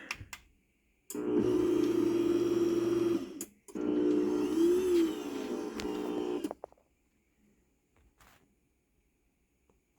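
A LiftMaster 3800P garage door opener motor hums steadily for several seconds, pauses briefly, then resumes before cutting off, leaving near silence with a few faint clicks.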